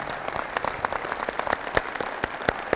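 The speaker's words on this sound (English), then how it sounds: "I think we need to offer them a big round of applause." An audience at the WRCA Legends event gives a round of applause, a steady wash of many hands clapping together, with a few louder, sharper claps standing out near the front.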